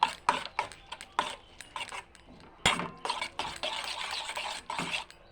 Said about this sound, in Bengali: পেঁয়াজ কুচি, টমেটো কুচি, ডিম, সব কিছু একসঙ্গে মিশিয়ে দেবো